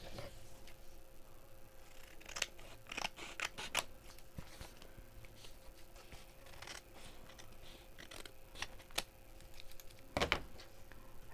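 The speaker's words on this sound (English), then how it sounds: "Okay, trim it. Let's trim it." Scissors trimming paper during a craft kit project: a series of sharp, brief snips and crisp cuts, some in quick clusters and one stronger cut near the end, heard close against a quiet room.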